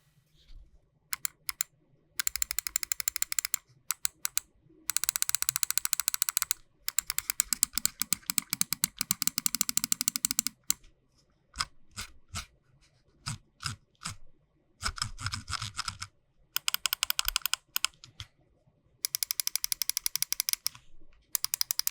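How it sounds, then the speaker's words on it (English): Rapid bursts of crisp, dry button clicks from a G-Wolves HTR 8K small gaming mouse, clicked close up in quick repeated runs separated by short pauses, with no talking. "So let's just go ahead and drop a click and quality sound check."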